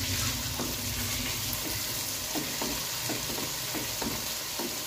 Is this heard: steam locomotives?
no